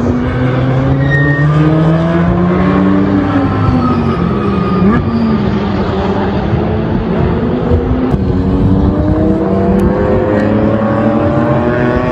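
An Audi R8 GT2 race car at the Le Mans circuit, its engine a loud, steady drone with rising and falling harmonic tones as it passes, continuous for the whole stretch with no talking.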